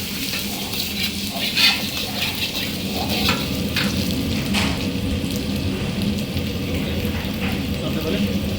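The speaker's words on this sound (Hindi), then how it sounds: "पहले लहसुन डालेंगे, फिर अदरक डालेंगे, फिर थोड़ा सा भुनेंगे" Garlic and then ginger frying in hot oil for Patiala chicken, a steady sizzle running throughout with occasional stirring clinks.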